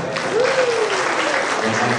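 Dense applause fills an indoor Jakarta government ceremony attended by Governor Jokowi, where a memento is presented and a 2012 regional financial report is handed over. The clapping is steady, loud and sustained, with a voice faintly audible beneath it.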